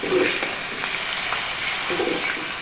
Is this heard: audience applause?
no